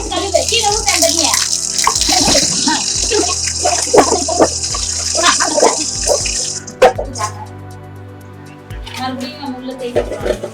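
Water splashes and pours from a tap while something is scrubbed and washed, running loud and close before easing off near the end, with voices, including a child's, talking over it.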